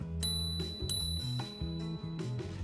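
Bell on a Turboant X7 Pro electric scooter rings three bright, clear dings in quick succession, close and loud, over steady background music.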